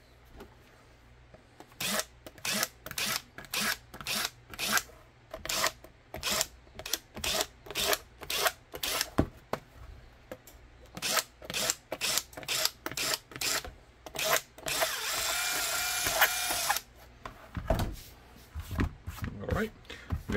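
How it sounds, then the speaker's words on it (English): Leather holster for a S&W 5.7 being finished, with repeated sharp metallic clacks of a press setting eyelets in a steady rhythm, close and loud, plus a short burst of hiss partway through. "Set the eyelets"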